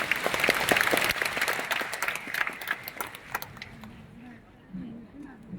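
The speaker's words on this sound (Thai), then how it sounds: "ปรบมือดังๆให้กับเกษตรกรทุกท่านครับ" Audience at a farmers' product presentation in Thailand bursts into loud, dense clapping that gradually thins and fades, with a few voices murmuring as it dies away.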